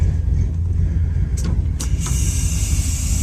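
A 1965 Cadillac Sedan DeVille runs with glass pack exhaust, a loud steady low rumble from close by, with a few brief higher mechanical whirs over it.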